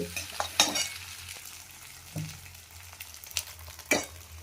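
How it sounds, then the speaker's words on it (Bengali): Maggi noodles cooking in a pan, a soft steady sizzle broken by several sharp scraping clicks of a utensil against the pan, close and fairly quiet, with no talking. "আজকে মনে হচ্ছে ম্যাগিটা একটু বেশি সিদ্ধ করে ফেলেছি"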